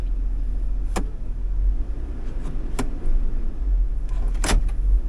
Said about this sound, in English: So to get the transmission flowing through, we're going to go through the gears. So hit reverse, neutral,